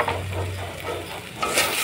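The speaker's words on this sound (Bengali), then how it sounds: "এখন দিয়ে দিব আদা বাটা রসুন বাটা, এটাকে ভেজে নেব।" Ginger-garlic paste with turmeric and chili powder frying in a pan for prawn malaikari, a close continuous sizzle with stirring and faint utensil scrapes, no voices.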